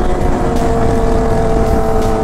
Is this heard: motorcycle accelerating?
yes